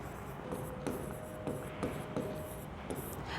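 Chalk writing on a board during a mathematics lecture, faint scratchy strokes with a few sharp taps in a quiet room, no speech.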